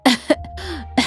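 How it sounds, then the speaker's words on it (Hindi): A sick elderly mother lying on an old cot coughs twice in quick succession, close and fairly loud, with a short throaty rasp between the coughs. "अम्मा खांसते हुए कहती है,"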